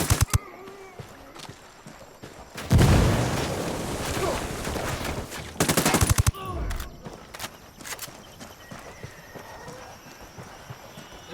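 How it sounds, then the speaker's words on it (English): A grenade explosion and bursts of gunfire in Ghost Recon Wildlands: a loud blast with a rushing tail, then rapid automatic fire, set among sparse clicks and scattered shots, close and harsh. "Grenade, get to cover."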